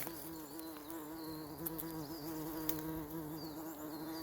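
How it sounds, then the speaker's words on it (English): A bumblebee buzzes around a plant on a woodland trail in Thrunton Woods, Northumberland, its wavering drone rising and falling in pitch as it moves, faint but continuous over quiet outdoor ambience. "whilst I try and get footage of this bumblebee"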